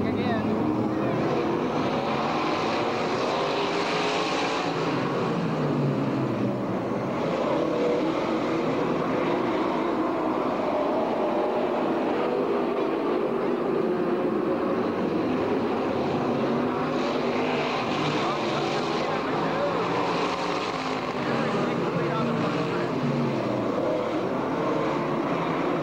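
Race cars roar around the track at Skagit Speedway, a steady loud engine drone that swells and fades as the pack passes, heard from the grandstand with a faint announcer's voice underneath.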